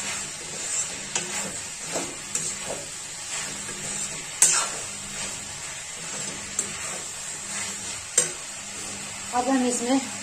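Rice stirred in a frying pan for tahari, a steady sizzle of frying with repeated scraping and stirring strokes, fairly close and without speech.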